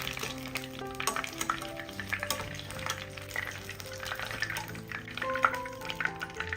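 Snacks stuffed with egg fry in hot oil with a steady crackling sizzle and dense bubbling pops, joined by a few faint tonal clinks, close and constant with no talking.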